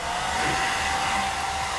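A hair dryer blasts continuously at close range while blow-drying hair during a DIY Brazilian blowout at home, a loud, steady airy roar with a constant motor whine and no pauses.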